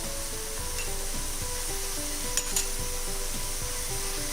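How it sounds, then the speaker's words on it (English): Ginger garlic paste sizzles steadily in hot oil in a pan for an egg drop masala curry, a continuous close hiss with a couple of faint utensil taps midway. "And now I will be adding the ginger garlic paste."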